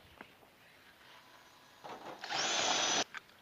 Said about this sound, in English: These automatic riveters are, the hydraulic riveters are absolutely fantastic